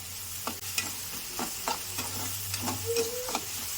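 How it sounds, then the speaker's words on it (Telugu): Chicken and onion fry in a pan with salt, giving a steady close sizzle broken by repeated spatula stirring scrapes at an irregular pace, with no talk over it. "మంచిగా వేగనిద్దాం, దోరగా కొంచెం వేగనిద్దాం పిల్లలు."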